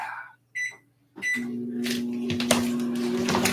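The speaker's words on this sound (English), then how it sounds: "We're going to put this cup in the microwave." A microwave oven heating a cup of coffee: a few short beeps and a click, then a steady, close electrical hum of the running oven with faint rattles, no talking.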